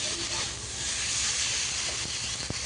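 Water poured into a hot pan of well-fried Bengali curry masala raises a steady, loud hiss and sizzle that holds for nearly three seconds, with a brief clink near the end.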